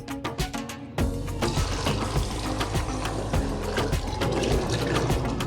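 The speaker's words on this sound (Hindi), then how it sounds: "और पानी डाल देंगे।" Water pours steadily into a pot of soaked white chickpeas and lentils for a Lahori chana curry, a continuous close gushing splash after a few brief clinks and taps at the start.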